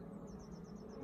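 Honey bees buzz steadily in a hive box after a recent split, a close, dense hum with faint wingbeat whine above it, no voices.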